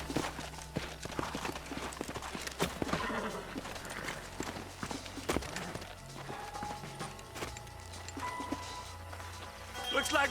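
Horse hooves clip-clop in the Red Dead Redemption video game, a steady trotting rhythm under game music and a voice, with a brief whinny mixed in.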